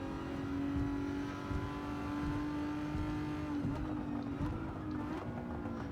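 Aston Martin DB11 held at full throttle on the Tokyo Expressway in Gran Turismo 7, a steady, loud engine drone with a sustained high-revving tone and slight pitch shifts, running continuously throughout.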